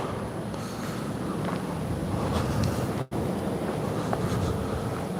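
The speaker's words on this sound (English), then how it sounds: "It is getting real windy." Strong wind roars steadily across the microphone during night carp fishing, a dense continuous rush with gusty swells and one brief dropout midway.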